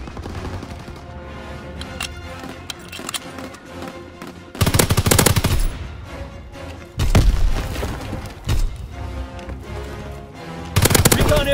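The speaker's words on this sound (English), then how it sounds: "Anti-aircraft burst has commenced. Targeting enemy aircraft." Anti-aircraft fire in the World War II shooter Call of Duty WW2, loud bursts of rapid booming shots breaking out in several separate volleys over a quieter background of game music and ambience.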